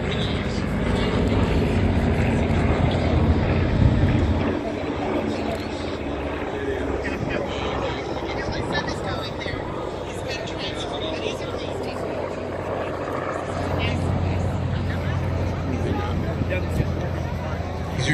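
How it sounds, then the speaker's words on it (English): Vintage warplanes including the N9M Flying Wing, P-26 and AT-12 flying past at the Chino air show, a continuous loud propeller engine drone that swells and eases over the clip, with an announcer talking throughout. "The N9MB Flying Wing, P26 on its right, AT-12 on its left, followed by the A6M0,"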